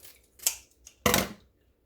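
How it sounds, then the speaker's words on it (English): Two crisp snips of scissors cutting through something dry and fibrous, close up, the second louder and longer, with quiet pauses around them. "just grab my scissors and just cut this sponge in half"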